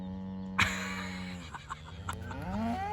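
Cattle low and moo several times on a farm pasture where cows are being separated from St Croix sheep, a loud bellow near the start followed by further drawn-out calls, with no talking.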